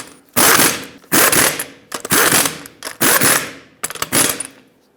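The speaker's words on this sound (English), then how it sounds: "torque them to 89 foot-pounds" A torque wrench clicks on the lug nuts of a Subaru Crosstrek wheel, tightened to 89 foot-pounds in a cross pattern; five loud, close bursts of rapid ratcheting, each followed by a short pause, with no talk.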